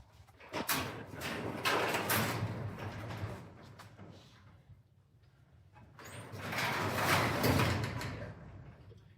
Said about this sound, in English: shut the big doors,